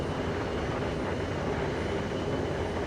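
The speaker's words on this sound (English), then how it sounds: "Not sure why that flyby stops there." Embraer ERJ145 regional jet flying past in X-Plane 12, a steady broadband jet roar holding at constant loudness throughout, no voices.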